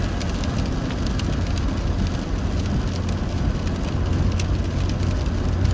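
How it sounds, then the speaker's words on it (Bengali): Constant heavy rain drumming with a steady road rumble on a busy highway in Kuwait, a dense, unbroken wash of noise throughout. "এখন বৃষ্টির প্রকোপ একটু বেশি।"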